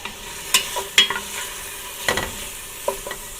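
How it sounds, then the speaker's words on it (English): BBQ jackfruit being stirred in a pan, with a handful of distinct close scraping and clacking strokes against the pan over a faint low sizzle, no talk. "Give it a little stir"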